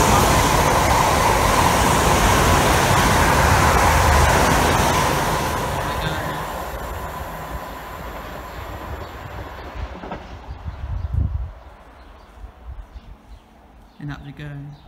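A Waterloo to Portsmouth Harbour passenger train rushes through Farncombe station, giving a loud, broad roar up close that slowly fades as it draws away, followed by a few fainter rumbles and knocks as it leaves.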